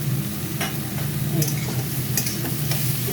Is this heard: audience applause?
no